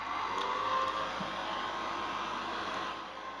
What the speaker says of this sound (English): We'll see how the hairdryer behaves.